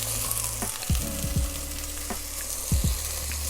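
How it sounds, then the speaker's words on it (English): Steady loud sizzling of lemon searing in a hot pan, with a few clanks and scrapes of utensils mixed in. "we're gonna sear off the lemon"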